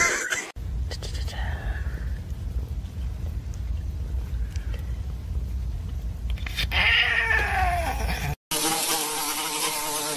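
A cat yowls and caterwauls in drawn-out, close, fairly loud cries over a steady buzzing hum, with a brief burst of other noise near the end.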